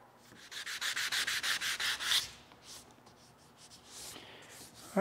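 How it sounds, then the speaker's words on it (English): Wood chisel paring wood while fitting toe rails on a wooden boat, a quick run of about ten rhythmic close scraping strokes, then a few slower, fainter slicing scrapes. "I'm moving the chisel. I'm sliding it as though I'm sort of slicing it."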